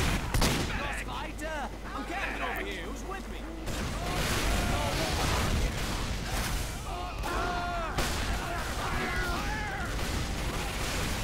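Rapid gunfire and explosions from a team-based video game match, dense and continuous throughout with overlapping bursts, beneath steady background talk.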